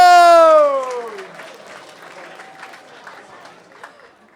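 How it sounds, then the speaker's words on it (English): Comedy-club crowd clapping and cheering to welcome a comedian to the microphone, starting just as an announcer's loud voice ends, then continuing as a softer, scattered patter of claps. "Clapping, cheering, and please welcome away to the microphone, Dan Jones!"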